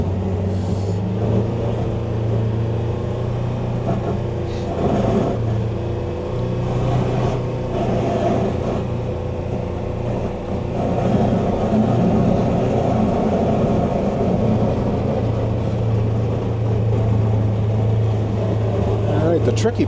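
A 2025 Polaris Ranger Northstar UTV engine runs steadily while plowing snow off a driveway, a constant close rumble with a faint whine, with no lapses and some talk under it.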